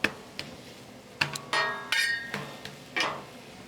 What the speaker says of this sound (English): And we're gonna get it chopped up, okay?